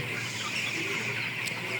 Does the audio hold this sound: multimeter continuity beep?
no